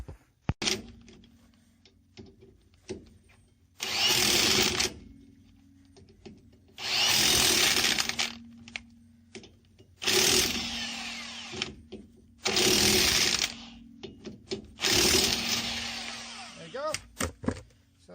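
Power tool driving wheel adapter nuts tight on a vehicle hub, in five loud bursts of whirring and rattling with short pauses between them and a faint steady hum underneath.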